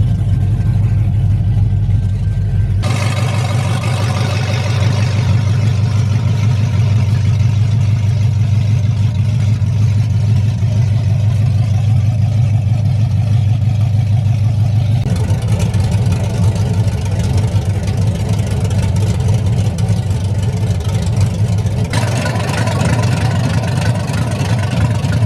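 A Chevrolet Colorado truck engine runs steadily as it drives around the block, with a constant low drone that shifts in tone and level a few times as the truck moves and changes speed.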